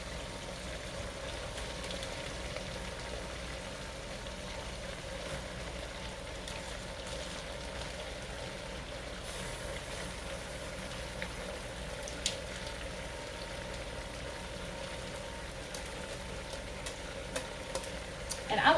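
Collard greens cooking down in a pot hiss and sizzle steadily and softly, with occasional faint clicks and a brief louder clatter at the end.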